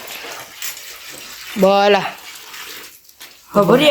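Water splashes and pours steadily into a trough, with brief voices speaking over it and a short animal-like call midway.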